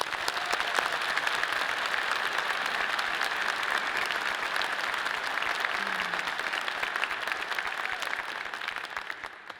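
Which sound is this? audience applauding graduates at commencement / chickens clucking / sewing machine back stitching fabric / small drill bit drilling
audience applauding graduates at commencement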